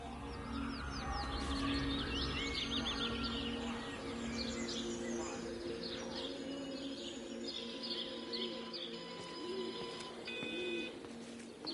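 Birds chirp and tweet continuously in Everybody's Gone to the Rapture, with many overlapping calls and a dove-like cooing over a steady ambient background, moderately near and fairly quiet throughout.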